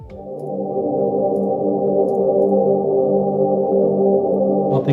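An atmospheric synth pad sample from Splice, used in a liquid drum and bass production, swells in and then holds a steady, sustained chord with a soft airy tone, alone and fairly loud.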